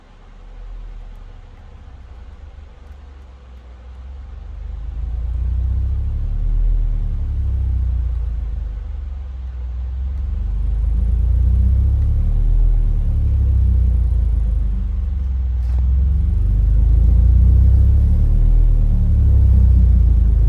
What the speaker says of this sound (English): 20 to 40 hertz sweep.